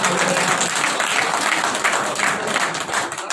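Audience applause at a political rally where Sidhu addresses NRIs, a steady wash of many hands clapping close and loud throughout, with no talk over it.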